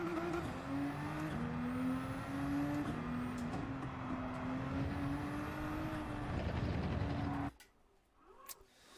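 A race car engine in the Gran Turismo 7 video game drones steadily, its pitch rising and falling with gear changes for about seven seconds, then cuts out into near silence.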